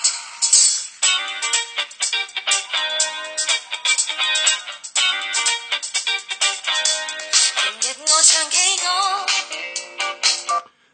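Music plays through the built-in speakers of a Nokia X6 16GB phone, a bright, tinny melody with quick rhythmic notes and no deep bass that keeps going for about eleven seconds with no voices over it.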